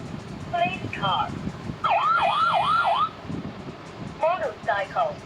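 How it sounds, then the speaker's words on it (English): Police car siren wailing in a rapid up-and-down yelp pattern, several short bursts over background noise, with a child-oriented sound book setting and a voice speaking between bursts. "police car"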